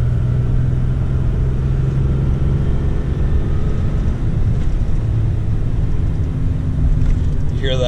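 A turbo diesel tow vehicle pulling a big fifth wheel on a narrow country road, its exhaust brake engaged: a loud, steady low engine drone and rumble holding throughout, close and continuous.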